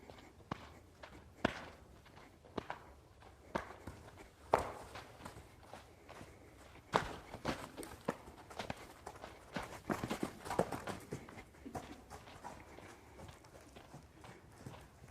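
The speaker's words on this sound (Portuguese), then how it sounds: "Eu faço esse potro andar, trotar, se movimentou bem" A young colt walking and trotting, its hooves striking the ground in an uneven series of soft thuds and sharper clops, fairly quiet, with no talk.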